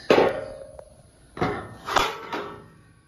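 Four sharp metallic impacts from a hammer striking a steel ground mount post for a solar array, spaced irregularly with short ringing decays, loud and close.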